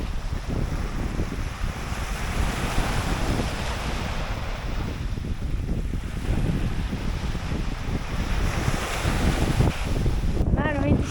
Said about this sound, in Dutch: Nou, de wind is gekomen.